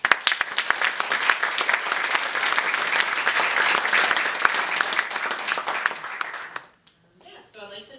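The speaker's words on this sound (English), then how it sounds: "Just a round of applause for all of us." Audience applause fills a university forum event hall at USC, a dense, steady round of clapping that holds loud for several seconds before breaking off abruptly, followed by a brief pause and a short stretch of speech.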